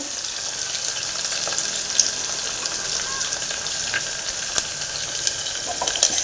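Sliced aubergine and potato sizzle steadily in hot oil, frying until golden brown, with a dense hiss and occasional sharper crackles and pops. No voices.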